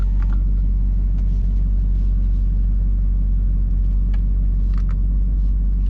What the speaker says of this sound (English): Well, I just opened up the exhaust baffles.